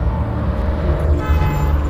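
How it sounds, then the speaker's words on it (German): Car horns in the horror driving game Decimate Drive, where cars chase the player, blare in a continuous layered honk over rumbling engine and traffic noise, loud and close. "die hupen auch noch"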